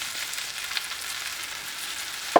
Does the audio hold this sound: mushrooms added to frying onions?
yes